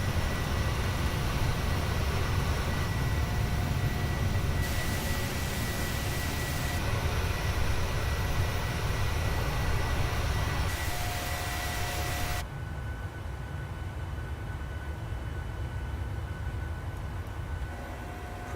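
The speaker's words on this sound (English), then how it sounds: "That noise of the engines is so cool as well." Jet engines of a PMDG 737-700 in Microsoft Flight Simulator, a steady loud broadband roar with a faint whine, abruptly dropping in level partway through as the view shifts, with no talking.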